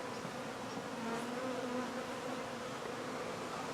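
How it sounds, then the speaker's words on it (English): A swarm of bees flies around close by, a dense, steady buzzing drone under open outdoor air, constant and moderately loud with no talking. "I've got a lot of bees flying around me."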